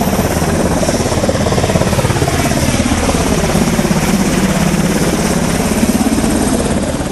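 Military army helicopter heard close and loud, a continuous dense rotor thrum with steady blade chop and engine whine holding at constant level, no talk.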